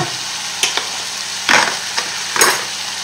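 Sausages and lentils cook in a pot with a soft continuous bubble, broken by three or four brief scraping stirs of a utensil against the pot, close by and with no voices.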